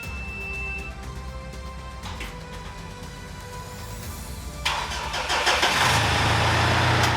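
A Challenger 4WD engine cranks briefly and catches, then settles into a steady, loud idle close by, with no talk over it.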